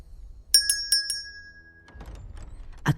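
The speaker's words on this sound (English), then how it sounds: "A brass bell rang." A small brass shop door bell rings four quick times with a clear, bright tone that lingers and fades, followed by soft footsteps and a faint knock.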